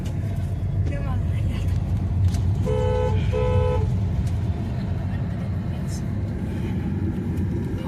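A vehicle horn beeps twice in quick succession over a steady wash of crowd and street noise with voices, during preparations for a Ganesh festival procession.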